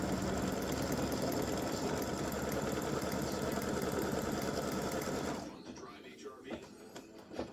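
A sewing machine runs steadily with a rapid, even mechanical whir as it stitches appliqué fabric down, then stops, leaving quieter handling noises.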